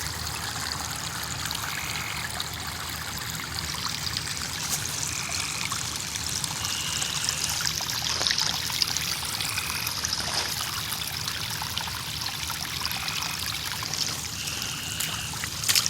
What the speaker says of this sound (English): Miniature waterfall.